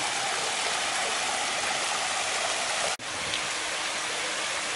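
A backyard garden waterfall at a home in Homestead, Florida, pouring in a loud, constant roar of splashing water, close by and unbroken apart from one brief dropout midway.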